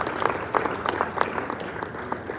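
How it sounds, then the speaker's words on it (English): Audience applause at a business talk held in a hotel venue: a scattered patter of clapping hands at moderate distance that stays fairly even for a couple of seconds. "Please clap for him."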